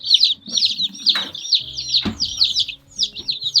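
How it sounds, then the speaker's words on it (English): Baby chicks peeping in rapid, high repeated chirps close by, with adult chickens clucking underneath and occasional rustling or bumps in a homestead brooder. "show you underneath all of this stuff here just how many chicks this crazy chicken lady has gotten"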